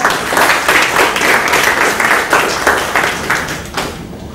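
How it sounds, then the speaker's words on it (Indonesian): An audience claps for a speaker being welcomed onto the stage at a talk on running an online business, a steady patter of many hands lasting several seconds before fading at the end. "Tepuk tangannya dong"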